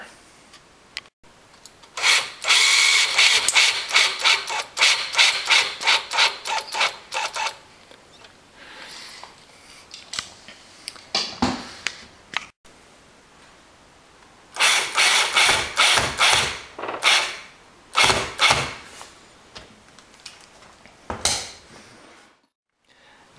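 A power drill drives short screws into the plywood side of a kitchen cabinet during a dishwasher installation, heard as close, loud repeated whirring and ratcheting bursts separated by brief pauses.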